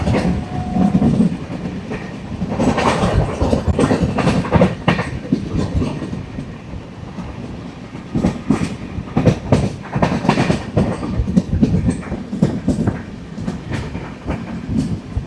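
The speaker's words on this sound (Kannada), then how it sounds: "ಟ್ರೈನ್ ಕ್ರಾಸಿಂಗ್ ನೋಡ್ರಿ ಹೆಂಗದ" A Yesvantpur Express train crosses close by on flat open ground, its wagons rattling past in a steady, loud clickety-clack of wheels over rail joints that lasts throughout, with no talking.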